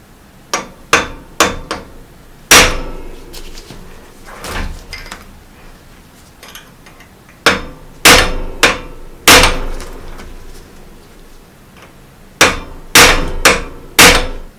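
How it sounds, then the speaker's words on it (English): Hammer striking a pin punch against the cotter pin of a three-piece bicycle crank: sharp metallic blows, some single and some in quick runs of two to four, separated by pauses, close and loud. "That's loose enough so we can get a pin punch and a hammer on it."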